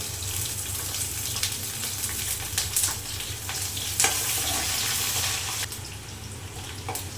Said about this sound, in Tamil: அடுத்து வந்து பூண்டு போட்டுக்கோங்க.